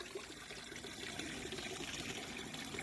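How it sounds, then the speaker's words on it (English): Pond water sprays steadily through a spray bar during spring pond maintenance, a continuous hissing trickle that stays even throughout without other sounds. "you can see the water spraying in there now"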